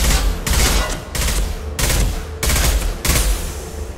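Bursts of rapid automatic gunfire from Mass Effect 2, loud and close, arriving in about six roughly even sustained volleys separated by brief lulls.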